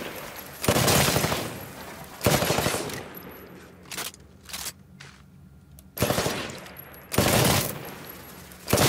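Rifle shots fired at shooting-range targets in the video game Titanfall, heard as several loud bursts of gunfire separated by quieter gaps with softer individual pops, no talking.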